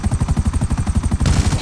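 Rapid gunfire from a helicopter in GTA 5, a fast steady stream of loud shots layered over the heavy thumping rotor of the helicopter.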